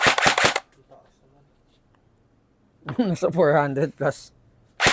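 Lancer Tactical AK airsoft rifle test firing: a quick close burst of sharp shots at the start, then quiet, then someone speaking, with one more shot at the end.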